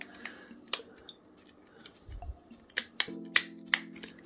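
The plastic top of a Raspberry Pi case is lined up and pressed down, giving a series of sharp, close clicks and snaps near the end, separated by quieter handling rustles with no talking.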